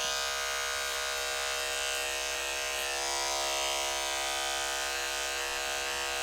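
Electric hair clipper buzzing steadily and close while blending a fade on straight, light-colored hair with a thin clipper comb, a constant high-pitched hum with no speech.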